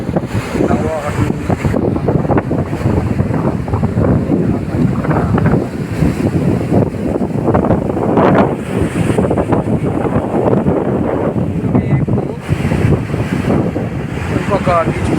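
Heavy wind buffets the microphone over crashing ocean waves at RK Beach in Vizag, a loud continuous roar of surf and gusts throughout with no clear talk.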